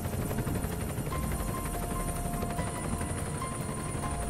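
A steady, droning video game helicopter rotor with a continuous buzzing whir, loud and unbroken throughout, with no talking.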